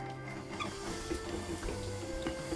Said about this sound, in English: using a hand mixer or a stem mixer, we're going to beat them through until the chocolate is melted